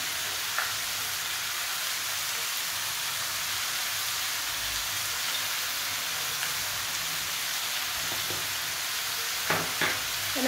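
Vegetable pulao ingredients with green peas and salt fry in a pan, a steady low sizzle running throughout with a few faint stirring clinks near the end and no talking.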